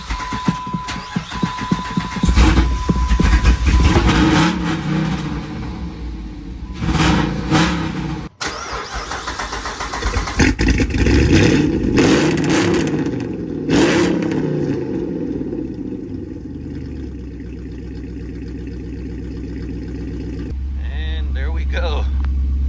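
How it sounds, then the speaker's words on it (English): Jeep engine turning over from a cold start and settling into a steady idle, loud and close, with a few revs and shifting mechanical noise along the way, under someone talking. "give a cold start to my Jeep here and show you what it sounds like"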